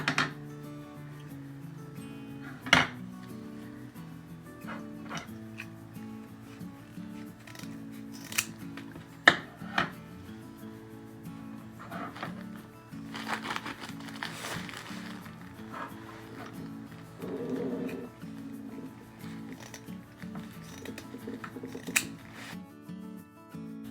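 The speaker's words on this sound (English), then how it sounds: "So I'm going to cut a few more here. The same size." Scissors snip repeatedly through craft pieces for Easter home decor, cutting several pieces to the same size in a quiet indoor setting, with crisp irregular clicks close by and light rubbing and handling noises between cuts.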